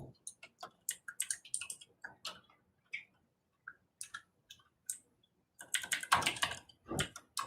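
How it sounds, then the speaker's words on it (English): A computer keyboard is typed on in quick irregular bursts of close, crisp key clicks, with short pauses and a dense flurry near the end. "I can't type on this keyboard."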